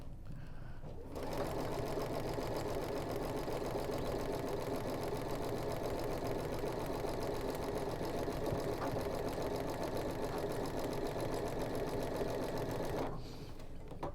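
A sewing machine stitches quilt blocks at a 2.0 mm stitch length, running in one steady, fast, even whir for about twelve seconds, close up and alone, then stopping.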